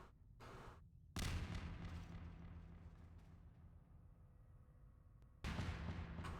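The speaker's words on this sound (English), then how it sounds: "you just throw grenades at it." Grenades go off in Half-Life 2 Beta: a loud blast, then a long rumbling decay, and a second heavy explosion near the end, with no talk over them.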